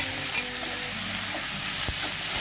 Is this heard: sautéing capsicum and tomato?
yes